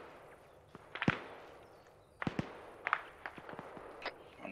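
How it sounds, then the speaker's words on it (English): Hand grenades explode during ArmA 3 gameplay as a scattered series of sharp, cracking bangs, some sounding distant and others closer, spread irregularly over a few seconds with no talk. "What's that? Those hand grenades?"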